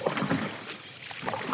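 Oars dipping and pulling a wooden rowboat across a lake, soft rhythmic splashes and water swishes close by, with steady light wind noise throughout.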